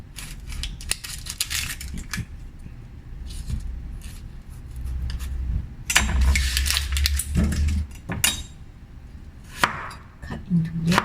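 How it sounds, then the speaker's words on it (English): A knife peels and chops an onion on a cutting board, giving a close run of crisp irregular cuts and scrapes, some quick, some spaced apart, with no voices. "Peel and cut this onion."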